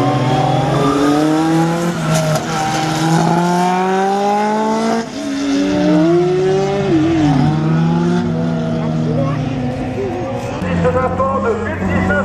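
A race car at the Neufbourg slalom 2017 works through a chicane, its engine climbing and dropping in pitch through repeated shifts and revs, while a commentator talks over it in French.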